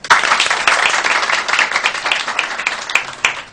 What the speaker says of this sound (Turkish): Alkış yakışır.